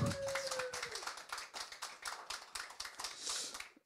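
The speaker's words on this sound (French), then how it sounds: "On applaudit." A small group claps quietly in a studio talk show setting, a quick run of distinct, fairly even hand claps with a brief tonal sound at the start.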